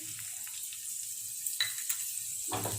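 Finely chopped garlic fries in hot oil in a pan over low to medium heat, giving a steady close sizzle broken by a few scraping stirs and a louder spatter near the end.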